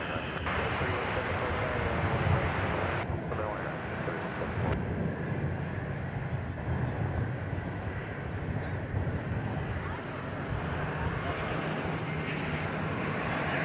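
Airbus A321neo jet taking off at DFW Airport: a loud, steady broadband roar that fills the whole stretch, close and continuous, with faint muffled voices underneath.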